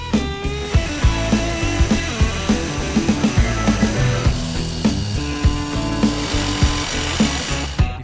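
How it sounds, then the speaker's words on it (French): Loud, close plunge saw cutting through a wooden board, with a rhythmic grinding buzz that pulses steadily as the blade moves through the board. "Il ne me reste plus qu'à régler ma profondeur de coupe, ici sur la scie plongeante."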